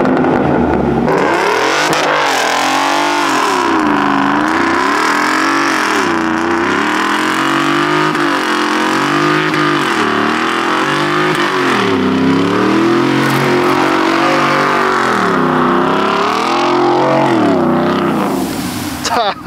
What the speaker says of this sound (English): the only thing we like about this truck is the vroom vroom